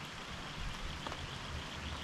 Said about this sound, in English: just listening to the rain in the trees and the water behind me